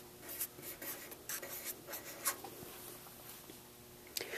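Pen or pencil writing out a measurement answer on paper, a soft scratching with short strokes and taps spread over several seconds, fairly quiet and close, with no talking.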